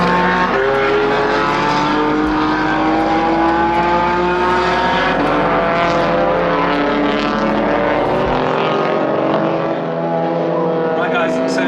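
Race cars lapping Fuji Speedway, their loud engines howling past in overlapping rising and falling tones that fill the whole stretch, heard from trackside.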